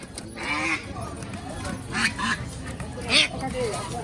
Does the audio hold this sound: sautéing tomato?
no